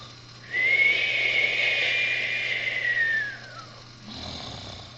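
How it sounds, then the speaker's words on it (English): Cartoon crane snoring: one long, loud drawn-out snore with a whistling tone that slides downward over about three seconds, then a softer breathy tail, alone over a faint low hum. "Meanwhile, Cranky the Crane was snoring."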